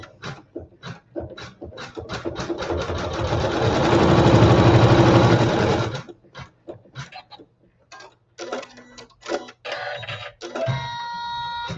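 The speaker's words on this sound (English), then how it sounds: "and we'll sew our seam" A sewing machine stitches a seam in quilting fabric, whirring in a fast, rhythmic run that builds to a steady peak, then stopping before short, stuttering bursts of stitching and clicks follow.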